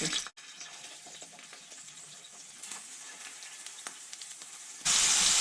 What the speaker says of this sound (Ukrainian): Додаю трішки вершкового масла і починаю обсмажувати печінку.